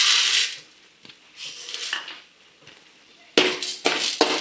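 Chana dal and urad dal are dropped into a frying pan of hot oil with browned hing, making bright rattling clinks and a short spill of dry lentils hitting metal, followed by a faint fizz and spoon knocks.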